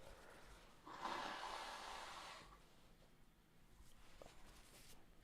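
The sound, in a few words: person blowing their nose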